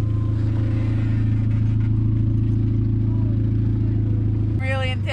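Interior drone of a roughly 30-year-old Honda Civic RT4WD driving off-road, a loud, steady low engine hum throughout, with a voice speaking over it near the end.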